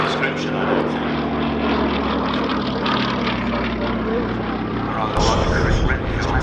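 A vintage Westland Lysander flies overhead at an airshow, with a steady propeller-engine drone throughout and a commentator talking over it.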